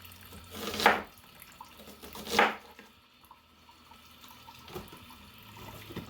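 Well water trickling slowly from a tap, a faint steady run with two louder gushing surges and a softer third, in a quiet room.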